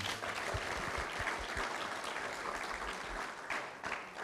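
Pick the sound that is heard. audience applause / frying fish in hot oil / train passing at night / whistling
audience applause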